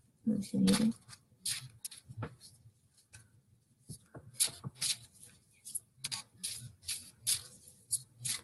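Tarot-style messaging cards being shuffled by hand during a nighttime prayer and healing session: repeated soft riffling and flicking bursts, fairly close, in an irregular rhythm, with a few quiet taps between.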